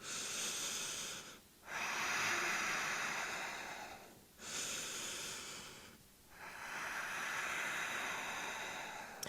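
Deep, slow yoga breathing while holding a low plank hover: long rushing inhales and exhales, close and breathy, separated by brief pauses, about three full breath cycles with no talking.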